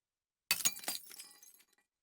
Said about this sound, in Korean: 정적 가운데 안경 깨지는 소리가 들렸다